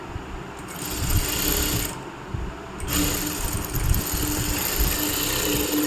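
A sewing machine stitches a blouse in steady, continuous mechanical running with brief pauses, fairly close and alone without talk.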